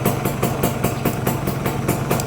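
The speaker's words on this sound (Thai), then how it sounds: "เครื่องยนต์นะครับ เงียบกิ๊บเลยแน่นๆเงียบๆนะครับ" A Kawasaki KR150 motorcycle engine idling steadily, a close, even mechanical putter with regular rhythmic pulses and no voices.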